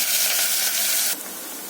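Onions, curry leaves, fenugreek and cumin sizzle in hot sesame oil for a tempering, a steady loud crackle that drops to a softer hiss near the end.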